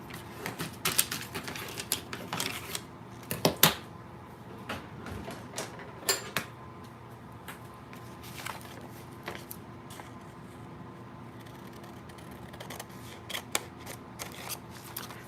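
Scissors snip through fabric for a memory bear sleeve in a home sewing setting, giving soft, irregular close-up cuts and rustles with a few sharper clicks, fairly quiet throughout.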